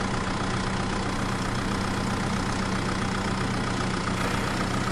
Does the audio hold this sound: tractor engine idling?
yes